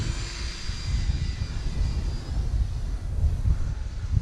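An E-flite Timber Turbo RC airplane droning steadily overhead at Avon Park field in gusty west wind, a continuous engine whine with heavy buffeting wind rumble on the microphone.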